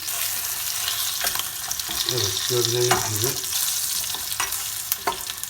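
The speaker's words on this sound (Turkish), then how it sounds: "İnciklerimizin dışını mühürlüyoruz ki tenceremizde pişerken içindeki suyu dışarı vermesin." Lamb shanks searing in a hot pan, a steady loud sizzle and crackle of frying meat with a few stirring clatters, while someone speaks briefly over it.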